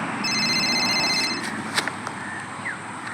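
A mobile phone hidden among leaves outdoors gives a steady electronic ring for about a second, followed by faint rustling and a few light footstep-like taps.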